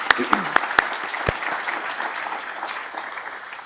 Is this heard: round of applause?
yes